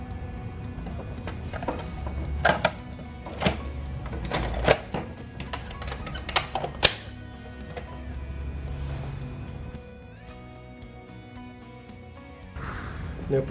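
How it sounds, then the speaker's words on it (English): The cover is snapped back onto a Pentair Rebel 2 pool cleaner, giving a series of sharp plastic clicks and knocks, near and irregular, that thin out toward the end. "Now put the cover back on."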